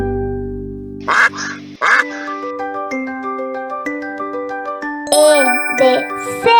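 Two short, loud duck quacks sound in quick succession, followed by a tinkling, chiming melody with more squeaky, quack-like calls near the end.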